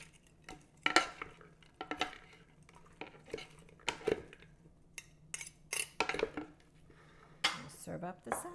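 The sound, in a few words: tossing Caesar salad with croutons in a bowl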